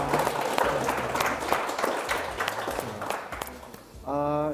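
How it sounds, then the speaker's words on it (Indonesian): A talk-show studio audience claps for several seconds, a busy patter of many hands with some sharp individual claps, then a voice briefly takes over at the end. "Baik, tepuk tangan dong."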